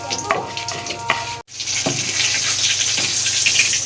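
Kachori and samosas frying in hot oil in a kadhai, a steady close sizzle with a brief clatter and a momentary drop before the frying resumes loudly, no talk.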